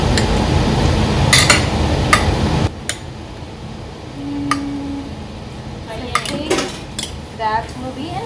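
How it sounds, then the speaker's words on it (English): Ingredients being mixed together in a bowl, with busy metallic scraping and clinking of a utensil against the bowl, loud and close, then a softer stretch of scattered taps and clinks; a voice talks briefly. "Just gonna mix it all up together."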